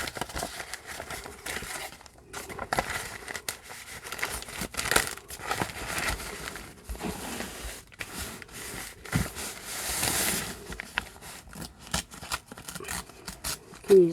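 A paper bag for a journal cover is ripped and crumpled by hand, giving irregular crinkling, tearing and rustling bursts at close range, moderately quiet and with no speech.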